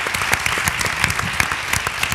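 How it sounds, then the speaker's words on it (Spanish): Audience applause for guests Gaizka Urresti, Paula Labordeta and Pilar Palomero at an interview event, a steady patter of clapping with a few sharper individual claps standing out, continuing alone without talk. "un aplauso, por favor"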